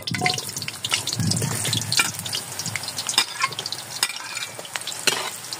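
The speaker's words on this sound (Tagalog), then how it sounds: "So, ilalagay na natin itong saging. Ipiprito na natin siya." Saba bananas go into hot oil with a close, busy sizzle and crackle mixed with stirring and scattered sharp pops, running continuously at moderate loudness with no voices.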